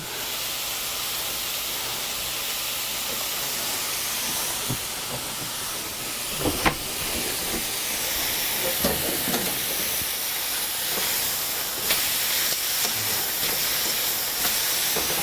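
Oil sizzles steadily in a frying pan, a constant close hiss filling the whole stretch with a few small pops and clicks scattered through it and no talking.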